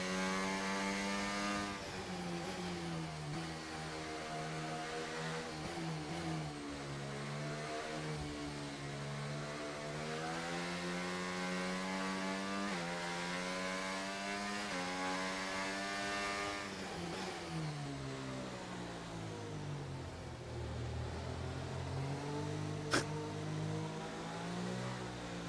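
A Formula 1 racing car engine in a racing video game screams at high revs, its pitch rising and falling through gear changes and corners, loud and continuous with no talk.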